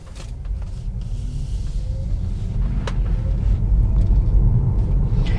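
A Tesla Model 3 drives along the road, producing a steady low rumble of tire and road noise that builds slightly, with faint clicks and no voices.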